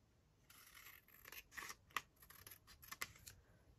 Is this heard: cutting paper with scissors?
yes